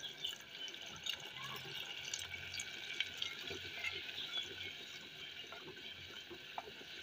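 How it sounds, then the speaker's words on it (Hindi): About a cup of water is poured into a pot of aloo gosht curry after the spices are fried in ghee, making a continuous, fairly quiet liquid splash and fizz with a faint voice in the background. "अब हम इसमें 1 कप के करीब पानी डाल देंगे।"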